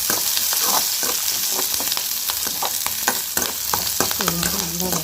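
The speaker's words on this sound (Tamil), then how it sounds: "இந்த ரெண்டையும் சேர்த்து நல்லா வதக்கிக்கலாம்." Steady sizzling and stirring of green chilies and curry leaves sautéing in a pan with carrot and potato, close and continuous with occasional spatula scrapes, no talking.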